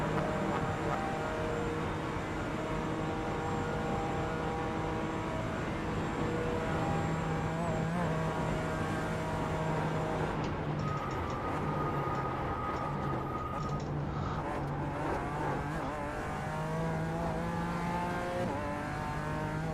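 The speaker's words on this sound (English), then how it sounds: "that sounds like a wild car, drag tuner" A racing car engine in the iRacing video game drones steadily at high revs on the Nürburgring Nordschleife, shifting pitch as it changes gear, loud and continuous with no talking.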